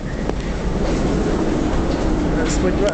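A steady, loud rumble of a metro train running, with a continuous roar and faint rhythmic clatter throughout.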